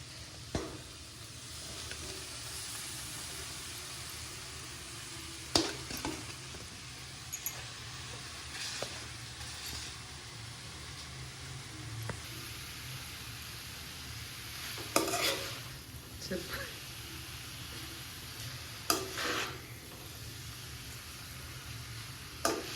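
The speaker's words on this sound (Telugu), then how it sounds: "ఇప్పుడు ఇలా మసాలాలు మొత్తం మిక్స్ అయ్యేలా కలుపుకోవాలి" Egg and masala fry in a pan for noodles while a spoon stirs, a faint steady sizzle broken by occasional scrapes and taps against the pan, with no talking.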